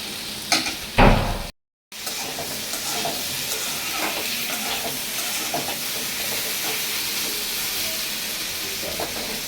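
Potato and eggplant pieces fry in a pan over medium heat, giving a steady hissing sizzle with a few louder scrapes early on and a brief cut-out of sound before the sizzling carries on evenly.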